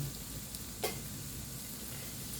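Soft, steady sizzling of food frying in a pan, with a brief louder crackle near the start, continuous and close.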